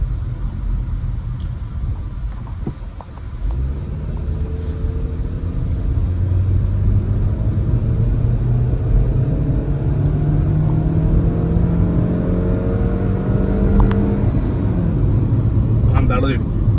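Interior engine and road rumble from a 2026 Maruti Victoris ZXi Plus (O) driving through the city, a loud steady low drone that swells as the car accelerates, with someone talking over it.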